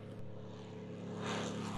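A P-51D Mustang with a Packard Merlin engine flying, a steady droning propeller roar that swells louder toward the end, heard at moderate distance without voices.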